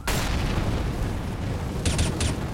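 A grenade blast in Counter-Strike: Global Offensive, an incendiary or flashbang, opens with a loud, close burst that settles into a low, rumbling wash, with a few sharp crackles near the end.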